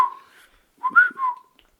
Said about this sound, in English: Hit him with that Drake whistle.